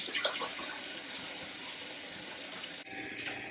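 Rhubarb stalks being washed under a running kitchen tap give a steady close hiss of water that cuts off briefly near the end and then resumes.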